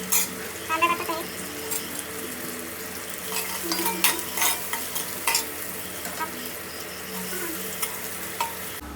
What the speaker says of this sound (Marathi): कांदा टाकत आहे.